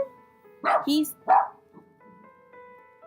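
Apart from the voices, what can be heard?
dogs barking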